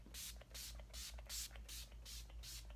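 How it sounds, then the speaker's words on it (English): Mary Kay finishing spray hisses in several quick, close bursts, roughly six pumps evenly spaced over a few seconds against a quiet room. "take this Mary Kay finishing spray, do a little shake, and then just spray the heck out of yourself."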